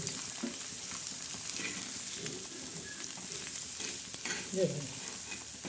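Egg bhurji frying in a hot pan while being turned and stirred with a spatula, a steady close sizzle with light scraping and clinks throughout, no voices.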